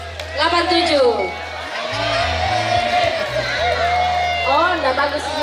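A lively crowd at a high school reunion cheers and whoops loudly, with excited shouting voices rising and falling over a steady low background beat.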